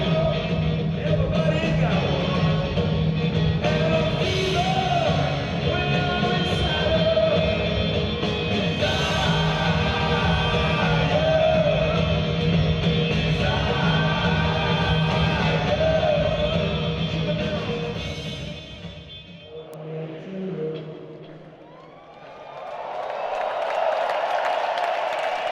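Crowd yelling and cheering loudly and continuously, then dying down briefly before the noise rises again near the end, with a few voices audible in the mix.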